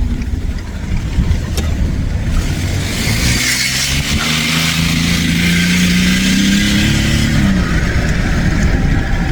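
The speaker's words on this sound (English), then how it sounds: "that was a pretty hard pull there, and 0 to 50, it still doesn't struggle, but it sputters a little bit, and gosh, it's loud." A 2017 Ford F-150 EcoBoost with an exhaust manifold leak accelerates hard around a corner, its loud engine droning and rising in pitch with a raspy, slightly sputtering exhaust heard steadily from inside the cab.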